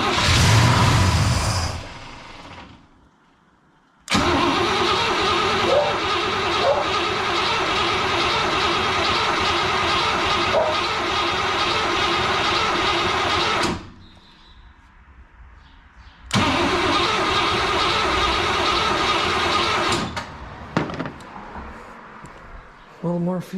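A car engine cranks and tries to start in two long bursts of steady churning, separated by pauses, close and fairly loud, with short quiet stretches between.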